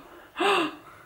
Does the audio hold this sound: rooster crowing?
no